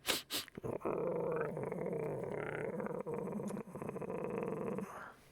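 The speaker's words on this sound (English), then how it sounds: "its first reaction to Katie is to actually put its back up a little bit and start to growl" A dog growls low and steady for several seconds, a close, continuous rumbling snarl after a couple of brief opening sounds, with no talking.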